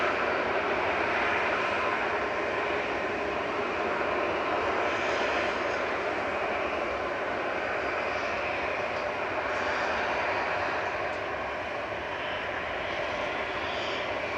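EasyJet airliner at Manchester Airport, a steady loud broadband jet engine roar that holds constant throughout as the plane lines up, heard close with no talking.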